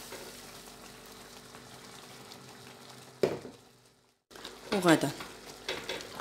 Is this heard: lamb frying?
yes